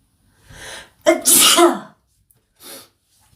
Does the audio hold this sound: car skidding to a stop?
no